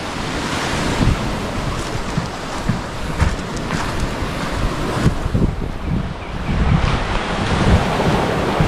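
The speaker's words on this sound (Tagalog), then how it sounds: "Tapos ito yung tabing dagat oh." Sea waves and wind rush along the shore at Lubo, Batangas, a dense continuous roar of surf with gusty microphone buffeting and irregular crashes throughout.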